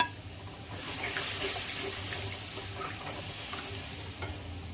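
A masala of tomato, white cumin, chicken stock, turmeric and red chilli cooking down in a pan for moong masoor daal, giving a continuous wet sizzle and bubbling hiss with soft stirring, steady and close, with no talking.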